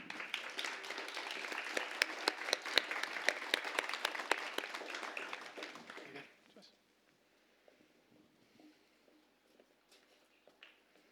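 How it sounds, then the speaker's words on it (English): Applause at a Grade 6 celebratory school ceremony honouring the Kestrels group: dense, steady clapping from a seated audience for about six seconds, then it cuts off to near silence with a few faint stray sounds. "A big round of applause to all the Kestrels."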